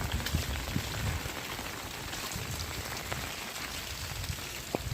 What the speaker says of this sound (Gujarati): અત્યારે ધીમો થઈ ગયો છે વરસાદ બહુ જ